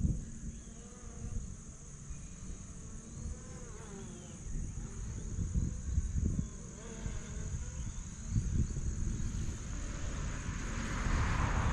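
Hubsan Zino Pro drone flying over a hay field, a thin high buzzing whine that rises and falls as it moves, heard at moderate distance with outdoor background.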